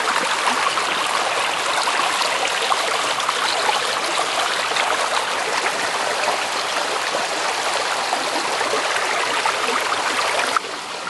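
Creek water streams steadily and continuously at close range, a dense broadband rush with small gurgles, constant throughout and free of any voices.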